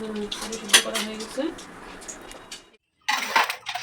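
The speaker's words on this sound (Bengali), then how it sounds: "যে বাসন আছে বাসন মেজে নিচ্ছে" Dishes clink and clatter close by as utensils are scrubbed, with a voice talking over the clattering and a short pause before it resumes.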